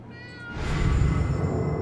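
Cat meowing in the game Life is Strange: True Colors, a single drawn-out meow rising near and clear over a low background hum.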